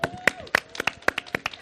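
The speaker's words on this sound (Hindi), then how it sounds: "बहुत सारी तालियां" Studio audience on a Pakistani talk show clapping in a brief burst, a run of sharp separate claps close by rather than a full roar.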